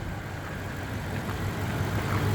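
Toyota Tundra V-8 pickup, a dirty, hard-used work truck, idling steadily with a smooth, even low rumble close by and no talking.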